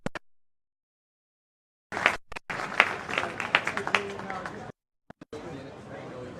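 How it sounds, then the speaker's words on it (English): Audience applause at the unveiling of a life-size Cilla Black statue at the Cavern Club in Liverpool, a burst of clapping and crowd murmur lasting a few seconds with short gaps and scattered claps around it. "a round of applause for everybody"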